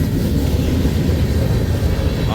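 An eastbound Norfolk Southern freight train hauled by SD70M locomotives rolls past in the start of a blizzard, a loud, dense rumble and roar close by that holds steady throughout.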